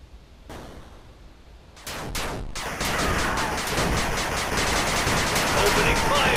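Army units in the 8-Bit Armies video game open fire with bursts of rapid, crackling gunfire that start sparse, then build into dense, continuous volleys of repeated shots, fairly loud and with no talking over them.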